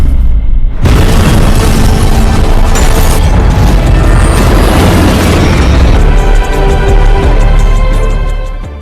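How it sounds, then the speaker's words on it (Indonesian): A sudden massive explosion of a bomb in a bag, from the film Jolt (2021), erupts after a brief quiet moment, followed by a long, loud roaring rumble of blast and debris that slowly settles. "tas tersebut meledak"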